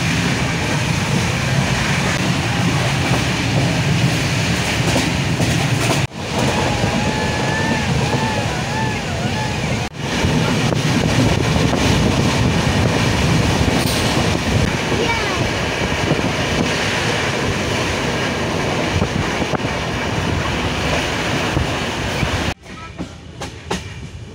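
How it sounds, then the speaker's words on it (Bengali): Passenger train from Haldia, boarded at Tamluk and bound for New Delhi, heard from inside as a loud, continuous rumble with rhythmic wheel clatter and wind noise over the whole stretch, briefly dipping twice. "এই ট্রেনটা কিন্তু হলদিয়া দিয়ে ছেড়েছে"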